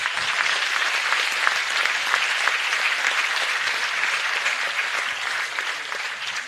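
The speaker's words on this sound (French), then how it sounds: "J'aimerais qu'on peut l'applaudir. On peut applaudir" An audience claps steadily at a talk on fighting the far right, a dense, even round of applause that holds at full strength throughout with no voices on top.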